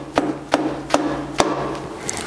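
Four light metallic taps, roughly half a second apart, as a Fordson Super Dexta tractor piston is knocked into its cylinder during an engine rebuild, with a steady low hum underneath.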